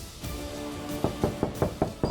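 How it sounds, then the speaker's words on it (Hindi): Someone pounds on a door in a domestic TV drama scene, a rapid series of about six loud, sharp knocks in the second half, each thud clear and close, with no talking over them. "हम कब से दरवाजा पीट रहे हैं"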